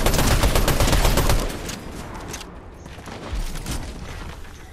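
Turret gunfire in Fortnite: loud, rapid automatic fire for over a second, then quieter continuing shots with another burst later on.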